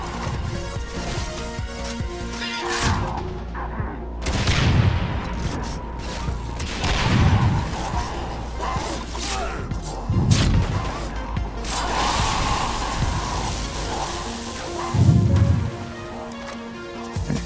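Sniper rifle shots ring out in the Far Cry 3: Blood Dragon video game, several heavy booming reports spaced a few seconds apart over a busy, continuous game soundscape.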